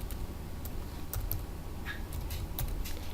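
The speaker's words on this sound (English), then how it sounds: "we're going to type double quote and the word book" Typing on a computer keyboard while entering a spreadsheet formula, a handful of light, scattered key clicks over a steady low background hum, close but quiet.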